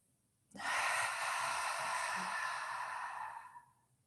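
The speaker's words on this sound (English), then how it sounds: "And a deep breath out." A single long, deep exhale during yoga breathing, a steady breathy rush lasting about three seconds that fades out at the end, close and alone.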